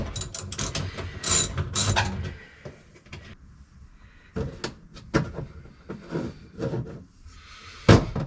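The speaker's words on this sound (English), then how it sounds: "In order to get the hardware out, you're going to need a 12mm socket." A hand ratchet turning a 12mm socket to remove hardware during an RMAX turn signal installation, clicking in short bursts with brief pauses between, close and fairly loud, with a sharp knock near the end.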